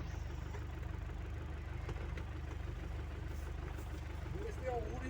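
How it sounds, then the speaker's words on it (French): A tractor's engine rumbles in a low, steady, throbbing drone as it pulls a car stuck in mud free, holding an even pace throughout. "Nous sommes actuellement embourbés et un gentil tracteur vient nous débourber."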